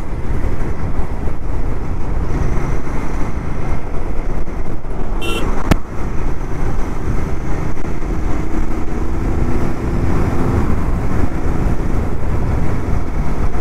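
A Royal Enfield Bear 650, a 650cc motorcycle, is ridden at speed in fifth gear, its engine a steady rumble under road and wind noise, with a brief sharp click midway.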